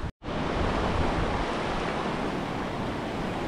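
River water near Mt Daraitan rushes in a constant, loud, even roar, heard up close with no talking.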